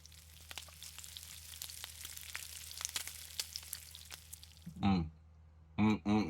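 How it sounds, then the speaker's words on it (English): Pork belly sizzles steadily in a hot pan with crackling pops, then a voice briefly hums and murmurs near the end. "See that sizzle right there?"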